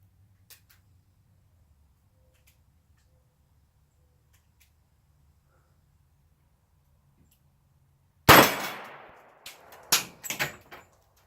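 A revolver loaded with moon clips fires a sharp, loud report after a long near-silent stretch, followed within about two seconds by a couple more cracking bangs.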